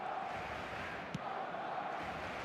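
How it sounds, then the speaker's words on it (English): Steady stadium crowd roar in the football video game eFootball, a dense continuous wash of massed voices at a constant level with one brief sharp accent midway, no commentary over it. "This crowd doesn't do ordinary, and we should be in for something very special."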